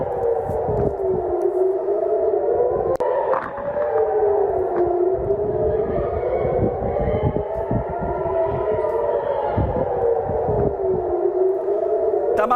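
An air raid alert siren wails over Tel Aviv, its pitch rising and falling in slow continuous sweeps, loud and sustained with no voices.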